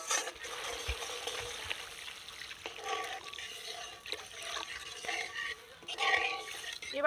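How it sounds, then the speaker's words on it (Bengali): Water poured into sizzling spice paste for a Bengali river fish curry, a steady liquid pour and bubbling hiss with faint stirring and a few clinks, heard close up and alone. "এবার আমি জল দিয়ে দেবো।"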